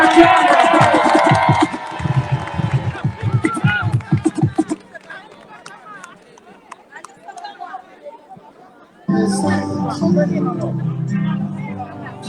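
A crowd at a tribute rally for Guy-Brice Parfait Kolelas cheers and acclaims, loud massed voices and shouts at first, dropping to scattered chatter, then swelling again into a dense roar near the end.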